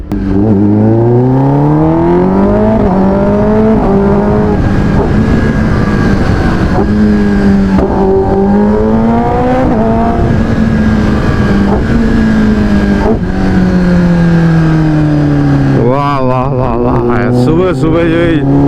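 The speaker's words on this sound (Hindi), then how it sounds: "ये जो कानों में आवाज आ रही है, जो ये रोर है ZX-10R की" A loud 2023 Kawasaki ZX-10R sport motorcycle engine roars up close, its pitch climbing and falling through revs and gear changes, with a sharp burst of revving near the end.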